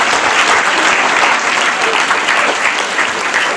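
Loud, sustained applause from a large audience at a motivational speech event, a dense steady roar of clapping filling the whole stretch with no voices on top.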